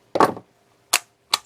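Film wound on an old Kodak Instamatic C33 camera: three short, crisp mechanical clicks and ratchets, close and dry, the first longer and rasping, then two quick snaps with silence between.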